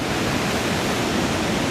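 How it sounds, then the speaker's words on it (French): Surf pounds at Anglet beach at low tide, waves breaking far offshore with lots of foam and current, a dense, loud, unbroken roar with no voices. "là avec la marée basse ça pète loin au large, beaucoup de mousse, beaucoup de courant"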